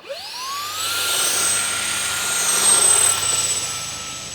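An E-flite SR-71 Blackbird RC jet with twin 40mm ducted fans on a 4S battery spools up to full throttle, a loud, steady, high-pitched whine that rises fast and holds.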